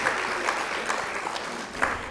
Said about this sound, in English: Give Claudette another round of applause for this very generous gift she has given us.